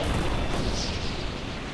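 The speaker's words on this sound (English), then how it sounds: "It's all the vehicles in the vehicle bay blowing up." Vehicles blowing up inside a carrier's vehicle bay in Carrier Command 2, a dense, continuous roar of explosive rumble sustained loudly throughout without a break.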